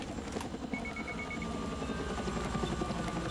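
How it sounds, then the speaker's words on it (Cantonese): A helicopter in the video game Battlefield 6 flies around close by, its steady rotor chop and engine drone filling the whole stretch without pause. "係你隔離嗰個直升機喺你度飛嚟飛去"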